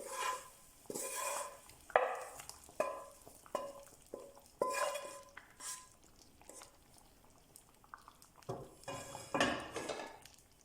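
Repeated scraping and clinking of a utensil stirring thick meat, vegetable and mushroom stew braised in wine in a pot, in uneven strokes with soft bubbling between them, fairly close.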